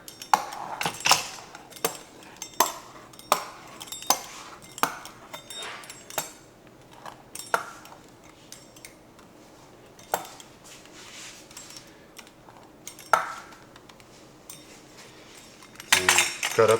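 A pizza cutter rolls through rolled-out dumpling dough for Instant Pot chicken and dumplings, giving a series of short, sharp clicks and taps against the board at irregular intervals, fairly close and fairly quiet, with no talking.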